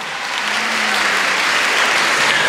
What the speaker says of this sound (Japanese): 今一度大きな拍手をお願いします。